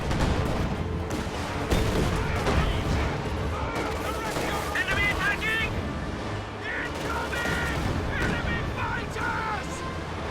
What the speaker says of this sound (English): Katyusha firing in the center, but it's a little bit off target